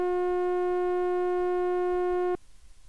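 Sustained synth note from a DAW with zero release holds at steady volume for about two seconds, then cuts off abruptly the instant the key is released, leaving near silence.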